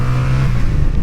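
A motorcycle engine revs steadily and loudly at close range, holding a strong low drone for about a second with no voices.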